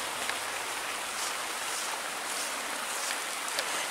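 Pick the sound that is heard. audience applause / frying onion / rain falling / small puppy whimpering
rain falling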